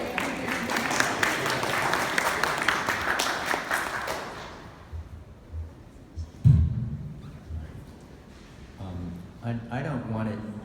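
An audience at a Whitney Museum of American Art exhibition event breaks into dense applause that fades after a few seconds, followed by scattered thumps, a clear tap and people talking nearby.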